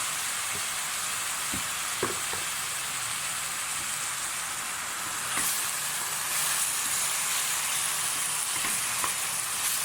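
Minced meat sizzling in a pan with onions, a steady close hiss of frying with occasional sharp spits and crackles, growing slightly louder midway as the mince spreads in the hot fat, no voices.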